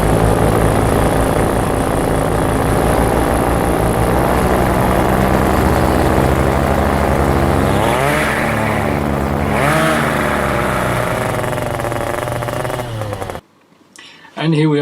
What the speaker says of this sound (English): The engine slipping.